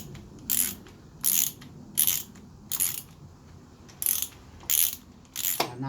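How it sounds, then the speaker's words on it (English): A torque wrench ratchets in bursts while tightening slipper clutch bolts on a Kawasaki Z1000 motorcycle, about seven short, close clicking runs spaced evenly with brief pauses between them. "you definitely need your torque wrench"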